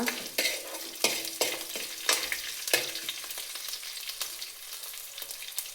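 Spices tempering in hot coconut oil crackle with a steady sizzle, while sharp pops and spatters recur every half second or so, close by and fairly quiet, with no talking.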